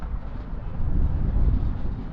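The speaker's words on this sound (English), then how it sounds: "Strong wind, tropical storm Alberta driven wind, but no rain. Extremely windy still" Strong gusting wind from Tropical Storm Alberto sweeps across an outdoor soccer match in New Orleans, a continuous low roaring rumble buffeting the microphone and swelling in the middle, with no talk.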